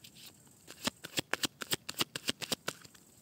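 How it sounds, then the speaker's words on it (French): A tarot deck being shuffled and cut by hand, a rapid run of sharp card riffles and slaps in a quick, uneven rhythm, close and clear, with no talking. "J'ai remélangé les cartes"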